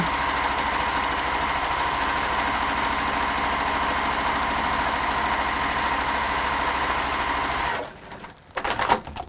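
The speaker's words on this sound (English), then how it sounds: "So that you guys can watch me stitch quite a lot in a straight line." Sewing machine stitching bag handles in a long straight line, a loud close steady motor hum with rapid even needle clatter for nearly eight seconds, then it stops and a few clicks and handling knocks follow.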